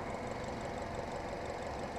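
A 2015 BMW X1 diesel engine runs steadily at close range, a constant rough idling drone with a faint knocking texture and no pauses.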